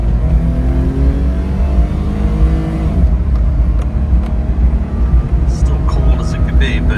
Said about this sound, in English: So here's a quick spin in the vehicle.